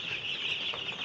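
Chicks in a 600-bird poultry house, cold and crowded under the heater: a dense, unbroken chorus of high peeping that stays loud and steady throughout.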